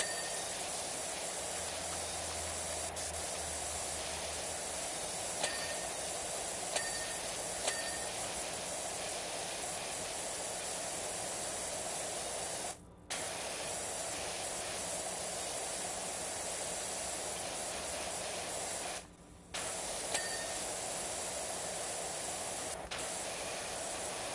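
A pressure washer in Power Wash Simulator 2 sprays in a steady, quiet, unbroken hiss that cuts out briefly twice before resuming.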